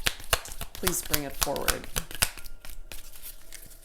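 Heart-themed oracle cards are shuffled by hand in quick, papery riffling bursts, close and crisp, while a voice speaks briefly over part of it.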